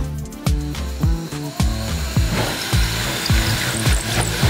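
A power tool cutting during a van roof build, in repeated short bursts, its motor whining up and down in pitch with brief pauses between runs, close and loud.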